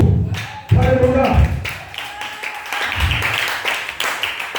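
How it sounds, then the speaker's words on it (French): A church congregation claps and applauds in uneven bursts, sharp hand slaps and thumps rising and falling over a low murmur of voices, with a louder swell near the start and another toward the end. "Donnez-moi l'acclamation, Seigneur"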